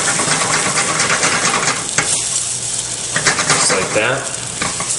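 Eggs and vegetables sizzle loudly in a frying pan while being stirred hard with a utensil, a close, dense crackle with scraping, and someone talks briefly over it.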